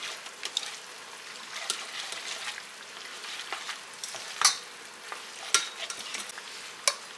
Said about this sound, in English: Now I'm going to get that stirred up around in there also.